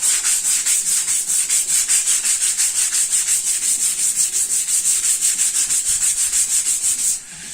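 Car body filler sanded by hand with 150-grit sandpaper on a semi-rigid block: fast, even back-and-forth rasping strokes, close and continuous, stopping just before the end.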